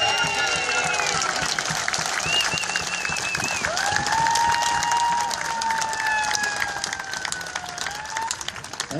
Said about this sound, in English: let's repeat that thunderous applause for the Lord Mayor